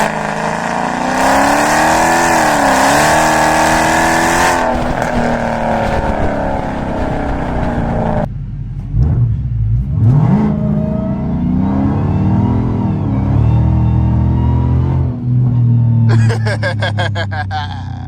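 A catless Dodge Hellcat roars loudly at launch and revs hard under launch control, the engine pitch rising and falling with gear changes, and a voice breaks in briefly partway through.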